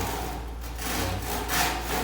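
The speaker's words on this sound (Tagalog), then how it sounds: "lagari lang yung gagamitin ko." A hand saw cuts vinyl baseboard in a room of a new house, giving a steady, close rasping sound that rises and falls with the slow strokes.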